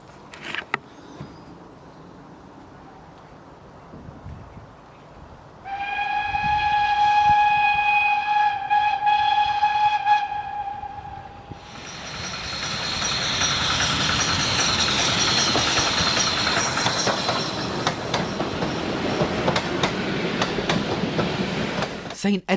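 A steam train rolls past loudly, announced by a sustained two-tone horn blast, then a long roar of wheels and carriages clattering by close at hand.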